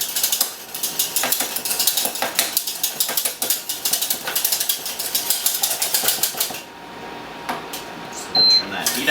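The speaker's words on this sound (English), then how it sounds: "I'm just going to froth it a little bit with my whisk." A whisk froths heated milk in a pan on the stove for homemade blonde hot chocolate, giving a fast, steady scraping and clicking rattle that stops near the end, followed by a few faint kitchen sounds.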